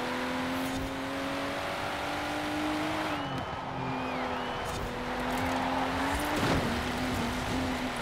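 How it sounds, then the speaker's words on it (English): A racing car engine in the video game Forza Horizon 4 holds a steady high whine through a corner, dipping briefly and climbing again under hard throttle, loud and continuous with faint tire noise. "going to gas it a little bit too hard on the exit of that corner"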